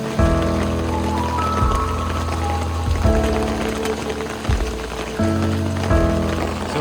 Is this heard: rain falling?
yes